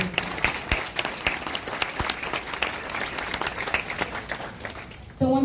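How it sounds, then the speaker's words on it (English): Scattered audience applause at a Hmong American caucus gathering, a moderate room of individual claps with distinct sharp hand strikes, ending abruptly as a voice comes in. "can we give them a round of applause for being here today?"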